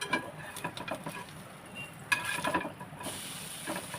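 Slices of egg Bombay toast bread are turned over and fry in a hot pan, giving a soft steady sizzle with a sharper clatter of the flip about halfway through, close and fairly quiet.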